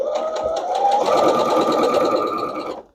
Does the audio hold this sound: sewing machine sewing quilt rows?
yes